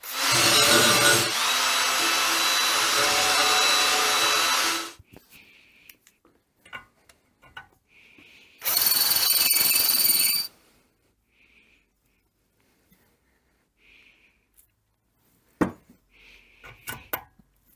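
An angle grinder works on a rusty crankshaft in a garage, making two loud sustained grinding bursts separated by a quiet stretch of small clicks, taps and faint whines.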